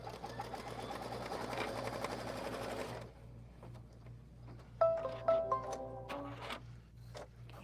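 An embroidery sewing machine stitches a quilt piece in the hoop with a fast, even mechanical whir that runs for about three seconds and then stops. Soft clicks and short electronic beeps follow, all heard close up.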